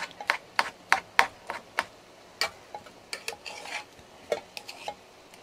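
A metal fork scrapes and clinks against a bowl while mashing food in a small cargo trailer kitchen, giving a series of sharp, irregular taps and scrapes, close and fairly loud, with no talking.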